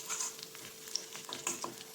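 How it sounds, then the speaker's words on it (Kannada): Urad dal, ginger, green chilli, curry leaves and mustard seeds frying in ghee in a pan, heard as a quiet, faint sizzle with scattered small pops and crackles, close up, with no voices. "ಒಂದು ಪಾತ್ರೆಯಲ್ಲಿ 2 ಸ್ಪೂನ್ ಆಗುವಷ್ಟು ತುಪ್ಪನ ಸೇರಿಸ್ಕೊಂಡು 1 ಸ್ಪೂನಷ್ಟು ಉದ್ದಿನಬೇಳೆ ಹಾಗೆ ಕಟ್ ಮಾಡ್ಕೊಂಡಿರುವಂತಹ ಶುಂಠಿ, ಹಸಿಮೆಣಸು, ಕರಿಬೇವನ್ನ ಹುರ್ಕೊಳ್ತೀನಿ"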